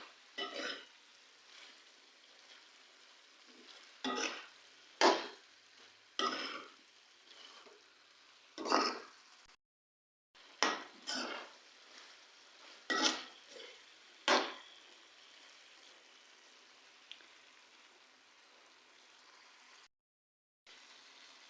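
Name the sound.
stirring aloo gobi salan with black pepper in pan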